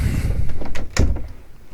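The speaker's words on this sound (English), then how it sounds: "One second, I close my office door." An office door swings shut, a short sequence of knocks and a firmer thud of the latch, close and fairly loud, with no voices over it.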